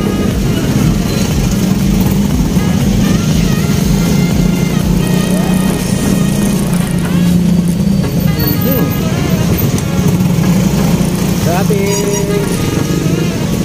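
Afternoon road traffic in Santa Cruz, with a steady, loud wash of motorcycle and car engines close by throughout, continuous and dense without a break.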